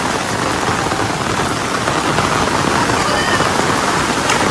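Very heavy monsoon downpour in Gariyadhar, with a loud, dense, unbroken roar of rain hammering surfaces close by, steady from start to finish.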